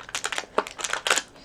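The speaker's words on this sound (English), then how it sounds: "Excuse the rustling noises while I get the next stamp out of the box." Rustling and crinkling of a rubber stamp being pulled from its box while making a card, a close run of soft papery and plastic crackles with small taps, no voices.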